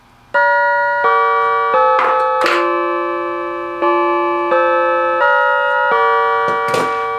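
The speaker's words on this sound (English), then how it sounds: "let's go ahead and ring the Chime module one more time." A chime module on an M&S Systems MC170 radio intercom rings a series of clear, sustained bell-like tones in stepped pitches, each note struck crisply and decaying slowly, loud and close with a few sharper clicks between notes.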